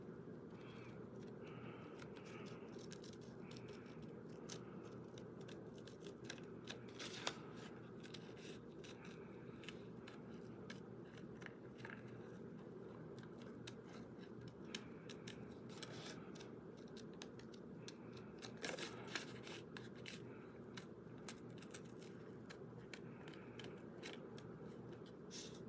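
Scissors snip steadily through paper, fussy cutting around stamped shapes for card making, with a continuous run of small close crisp cuts and scrapes and no talking.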